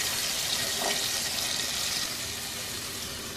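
Water splashes into a pot of aloo gosht cooking with spices, a close, steady rushing pour lasting a few seconds and tapering slightly.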